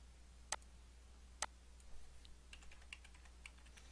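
A date is typed on a computer keyboard: two sharp isolated keystrokes, then a quicker, lighter run of clicks, faint and close, with no talking.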